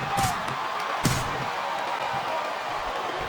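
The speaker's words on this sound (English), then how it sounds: "Sounds like this crowd's got something on their minds" Steady arena crowd roar from the wrestling video game WWE SmackDown vs Raw 2007, during a table match, fills the background, with a sharp slam or thud cutting through early on.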